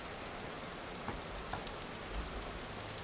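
Steady rain patters across the ground in the Vintage Story video game, a dense even wash with a few brief louder drops, moderately faint and unbroken by talk.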